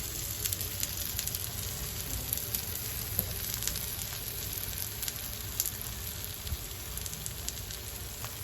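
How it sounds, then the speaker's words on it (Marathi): Thalipeeth flatbread frying in oil on a pan, a steady crackling sizzle running throughout at close range with small pops, no voices. "मध्ये मध्ये होळीमध्ये मी तेल सोडून घेते म्हणजे आपलं थालीपीठ ते खरपूस थालीपीठ होतं"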